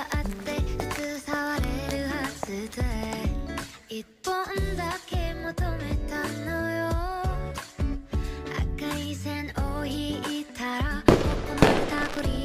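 Festival fireworks in the Sakura School Simulator video game pop and crackle in rapid bursts, mixed in with a melodic music track that carries throughout.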